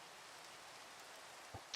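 Steady rain hisses in a Minecraft-style video game, soft and even throughout, with a couple of faint taps near the end.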